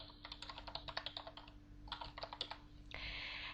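Fingers tap out a command on a computer keyboard for the Aardwolf MUD game, a quick run of close, crisp keystrokes in two bursts with a short pause between them and a steady hum underneath.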